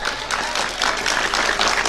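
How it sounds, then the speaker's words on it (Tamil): Audience applause fills a Tamil motivational speech hall, a steady wash of many hands clapping at close range with no break, a little louder toward the end. "கைத்தட்டல் எல்லா திருநெல்வேலி அம்மாக்களுக்கும் சமர்ப்பணம்"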